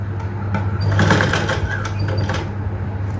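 A sewing machine stitches a princess-cut garment with a belt, its motor running in a steady, close, continuous whir with slight surges in speed throughout.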